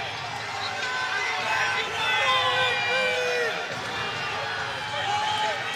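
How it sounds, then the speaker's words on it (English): The crowd at an Iowa versus Oregon State college wrestling dual meet calls out for a stalling call, a sustained roar of voices and shouts that swells and ebbs over several seconds. "Crowd's calling for stalling."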